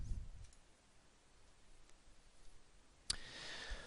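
A single sharp computer mouse click stands out near the end of an otherwise very quiet stretch, with only faint ticks before it and no speech.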